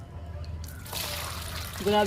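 Liquid fertilizer poured onto a potted jasmine plant: a short trickling, splashing pour starting partway through, close and moderately loud, with a low steady hum underneath.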